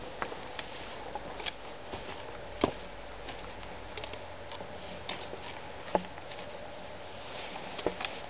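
A bee buzzes faintly in an outdoor garden during a tree-planting, a thin drone mixed with scattered soft ticks and taps from nearby activity, with no voices heard.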